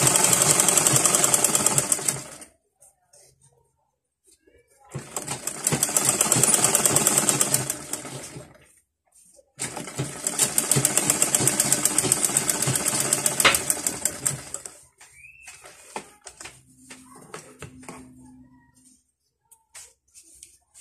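A sewing machine runs in three sustained bursts, stitching a zippered pillowcase, its rapid needle rattle loud and close, with short pauses between runs and lighter handling clatter at the end.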